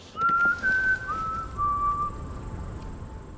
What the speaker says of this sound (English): we'll once again hear that Hunger Games whistle one final time.